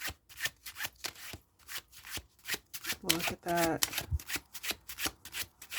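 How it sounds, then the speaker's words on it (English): Tarot cards from the Tarot of the Divine deck are shuffled by hand in rapid riffling bursts, the soft papery flutter repeating in quick rhythm while a voice speaks briefly in the middle. "Let's try a quick shuffle."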